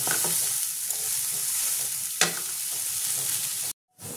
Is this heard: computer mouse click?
no